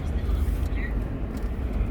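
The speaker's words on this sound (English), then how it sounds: "There's the helicopter." A helicopter flies overhead near the Kaiser Permanente hospital, heard as a steady, muffled low rumble that stays at a distance throughout, with no clear blade chop.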